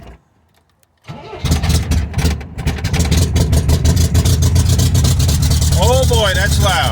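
MGB sports car with its exhaust deleted: after a quiet start the starter cranks briefly and the engine catches, then it runs loud and raw with a rapid, rasping pulse. A voice speaks over it near the end.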